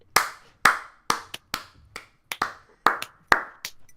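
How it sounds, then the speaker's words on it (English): A slow clap from one person, about ten sharp, close hand claps spaced roughly half a second apart, crisp and isolated in a quiet room with no talking. "I just gotta slow clap it out for you guys"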